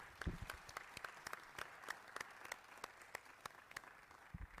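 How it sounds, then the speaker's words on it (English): Sparse, scattered hand claps from a small group at a board of education meeting, quiet and distant, coming in loose irregular bursts rather than a full ovation. "I think we should give a round of applause for the winners"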